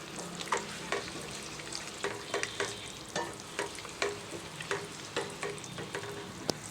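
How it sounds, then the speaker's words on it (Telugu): Halved boiled eggs fry in hot oil in a pan for an egg masala curry, a steady close sizzle broken by regular sharp scraping and clinking as a spatula turns them, with no talk. "ఈ విధంగా గుడ్డుకు అన్ని వైపులా బ్రౌన్ కలర్ వచ్చేటట్టుగా ఇలా ఫ్రై చేయాలి."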